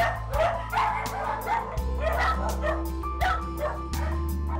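Several mange-afflicted dogs in a cramped hoarding home bark, yip and whimper in a rapid, overlapping chorus, loud and close, with a steady low hum running underneath.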